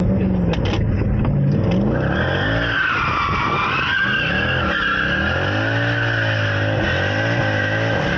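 A Mercedes W204 C63 with 507 horsepower to the rear wheels and an open differential drifts on a mountain road, a loud sustained tire squeal wavering over a revving V8 engine.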